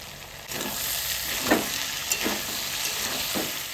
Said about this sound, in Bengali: আলু আর চিকেন কষানো হয়ে গেছে